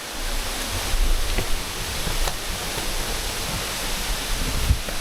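Waterfall at Jed Kod trail in Saraburi, heard from a viewpoint above it: a steady broadband rush of falling water, continuous and fairly loud, with a few faint bumps and no talk.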